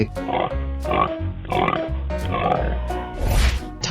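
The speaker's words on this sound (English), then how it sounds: "Pig." A pig in a 3D animal video game gives a string of rhythmic grunting oinks, close and fairly loud, over busy game audio without speech.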